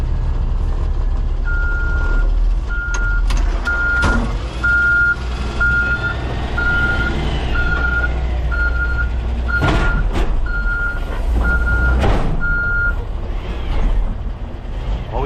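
A yard spotter truck backs up to hook onto a trailer, its reversing alarm beeping in a steady regular series over a loud diesel rumble, with a few sharp air-brake hisses and clunks near the end.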